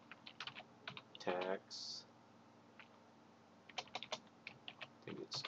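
Typing on a computer keyboard while searching for a user in a Twitter app: light clicking keystrokes in scattered bursts, close and soft, with someone speaking briefly between them.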